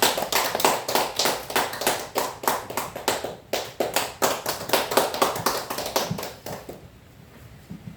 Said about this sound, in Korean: 뜨거운 박수를 보내드리고서 강의를 청해 듣도록 하겠습니다